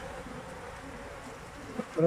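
Honey bees hum in an opened hive during a beekeeping check, a soft continuous drone close by, with faint voices and handling noise near the end.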